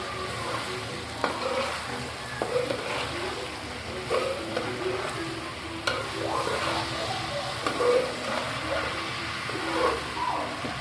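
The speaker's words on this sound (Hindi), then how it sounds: "अच्छे तरीके से इसको मिक्स कर देंगे" Bitter gourd chicken being stirred with turmeric and chilli in a pot, giving a continuous sizzle with repeated scraping and clacking spoon strokes, close and fairly loud.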